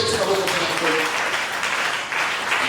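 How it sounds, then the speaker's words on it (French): Church congregation applauding during a sermon, dense continuous clapping from a crowd filling the room, with voices mixed in. "Applaudissez pour ça."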